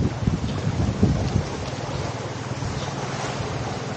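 Sea waves at Duka Bay beach in Mindanao, a marine protected area, make a steady low wash of surf with a rougher rush near the start, fairly close and with no talking.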